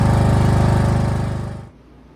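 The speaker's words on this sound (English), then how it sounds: "We mow together." A lawn mower engine running close by with a loud, steady, pulsing drone that fades and then cuts off abruptly near the end, leaving a quiet hum.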